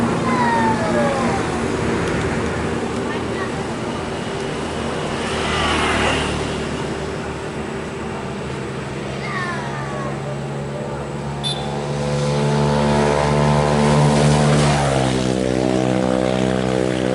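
An NPM bus with a loud, droning engine rolls past at close range, its pitch sliding downward as it goes, over steady traffic noise.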